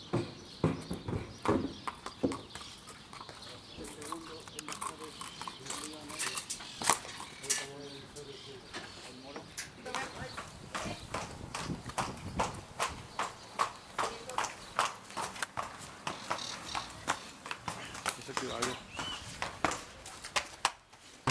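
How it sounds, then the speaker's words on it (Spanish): Horses walk at a racetrack with steady, close hoofbeats clip-clopping in an irregular rhythm for about twenty seconds, with crowd and commentary noise in the background. "Acaba de llegar con los caballos de Lara, Jarvis, Libanés."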